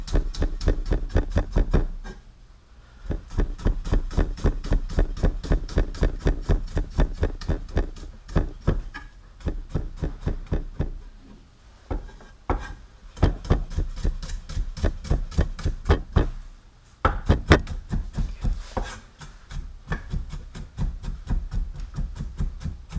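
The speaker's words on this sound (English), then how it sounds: "And chop our garlic." A knife mincing garlic on a cutting board taps out rapid, steady rhythmic chops in long bursts, with brief pauses between runs, close and crisp.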